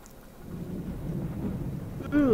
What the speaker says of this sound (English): Ooh, lightning. Thunder.